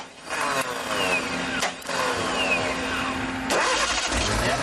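A scrapheap-built vehicle engine cranks and catches, then runs loud and steady with a brief revving surge near the end, in an outdoor build-challenge setting.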